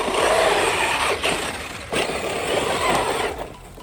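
A Traxxas Maxx RC truck driven flat out, its electric motor whining loud and steady with brief dips, close by, with broadband tire and dirt noise and no talk.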